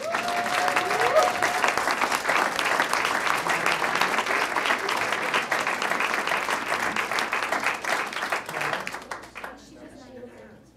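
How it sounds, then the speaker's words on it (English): An audience at a board of education meeting claps in sustained, dense applause for student science winners, holding steady for about nine seconds before tapering off. "Round of applause for our science winners."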